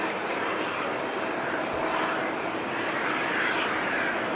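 A Boeing Dreamliner airliner taxis toward the runway, its engines producing a steady, broad roar with a faint whine, constant and unbroken at moderate distance.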